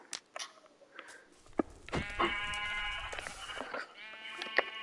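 Sheep bleat in the video game Minecraft, several wavering calls in a row, clear and close, with scattered short game sounds in between and no talking.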